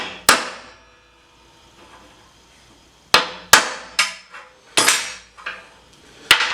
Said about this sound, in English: center punching it for the holes